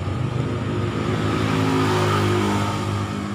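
A Yamaha Vega ZR motorcycle engine with a fault causing sluggishness and lack of power drones close by, its pitch climbing as it revs and then settling back, holding a steady throaty hum throughout.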